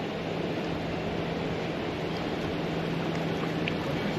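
Rushing river water and rapids surround a raft, a steady broadband churn of waves and spray running without pause, close and fairly loud, with no talking over it.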